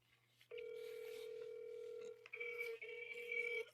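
Steady telephone dial tone heard over a phone line while placing a call, a continuous hum that breaks briefly and resumes with a brighter added tone near the end, faint background hiss throughout.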